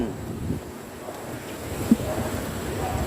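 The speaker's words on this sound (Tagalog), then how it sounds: "malamig ang simoy ng hangin" Wind blows across the microphone in a low, rumbling gust, with a soft outdoor roar and a brief thump partway through, in Tagaytay, Philippines.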